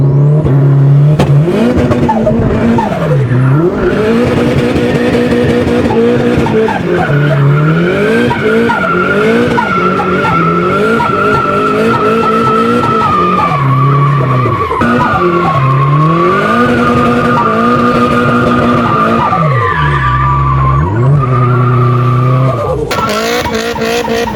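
A car revs hard while its tyres squeal and skid in long, repeated screeching sweeps, loud and close, for over twenty seconds with no talk.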